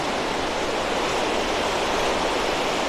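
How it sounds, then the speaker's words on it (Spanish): Ocean waves wash steadily onto the beach at San Juan de Alima in the late evening, a continuous broad roar of surf with no distinct breaks and no voices. "Si ese mar no para sus olas, nosotros tampoco."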